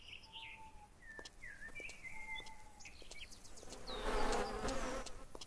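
Bees buzz in the forest in the video game Lumberjack's Dynasty, a soft continuous drone with birds chirping and calling around it, swelling louder toward the end; no speech.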